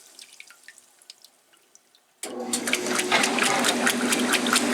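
Water rushes into a 1996 Maytag Dependable Care Plus washer on a permanent press cycle: a quiet room with faint drips, then a sudden loud, steady gush of filling water that continues to the end, close up and with no talk.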